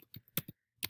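A few distinct keystrokes on a computer keyboard, quiet, close and sparse, in small irregular clusters against near silence.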